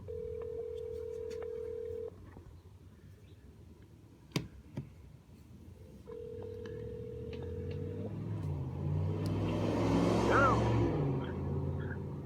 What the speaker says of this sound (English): All right, initiating dialing.